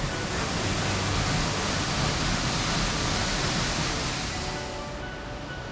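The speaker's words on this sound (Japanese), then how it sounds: "養老の滝到着です。" Yoro Falls, a waterfall in Japan, pours with a steady, dense roar of rushing water that holds constant and close throughout, easing slightly near the end.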